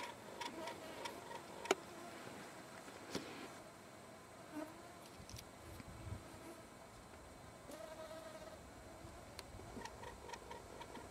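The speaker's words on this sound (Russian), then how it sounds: "Комаров очень много." Mosquitoes and other insects buzz around a summer camp in the Mus-Khaya mountains of Yakutia, a faint continuous whine with scattered sharp ticks and clicks throughout, no talk.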